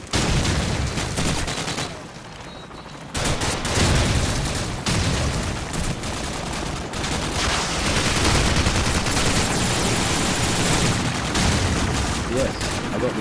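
Rapid bursts of MP44 rifle fire in Call of Duty 4 multiplayer, loud and dense automatic shots with a short pause near the start, then sustained firing and game noise throughout.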